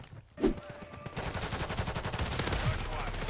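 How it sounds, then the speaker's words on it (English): Mortar strike in Call of Duty MW3 on a new Season 2 map: a sharp thump followed by a dense rumbling rattle of repeated impacts and gunfire, moderately loud, with a voice talking underneath. "So the mortar strike on this map"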